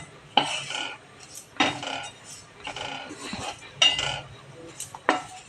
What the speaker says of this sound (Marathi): असं छानपैकी परतून परतून मस्त भाजायचं